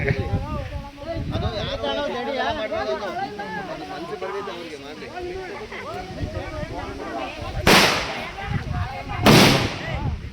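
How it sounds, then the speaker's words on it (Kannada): Two sharp firecracker bursts crack out near the end, loud over a crowd of people talking and chattering throughout, at a village Ganesh immersion procession. "ನೋಡಿ ಇಲ್ಲೆಲ್ಲ ಪಟಾಕಿ ಹೊಡಿತಾ ಇದ್ದಾರೆ"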